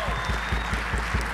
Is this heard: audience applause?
yes